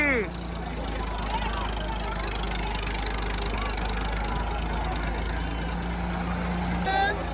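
A Ford tractor's steady, low engine rumble drones throughout, with occasional voices and faint bird calls over it, during a disc-pulling contest.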